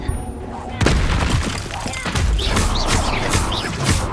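Confringo fire-blast spell in the Hogwarts Legacy game, a sudden loud explosive burst followed by a barrage of crashing booms and thuds in a busy combat mix.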